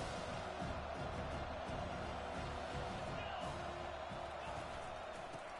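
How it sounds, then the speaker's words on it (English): A packed stadium crowd in a college football video game roars as one dense, unbroken wall of noise, loud and constant throughout with no breaks. "It's early, but this crowd is fired up. Listen to this noise here."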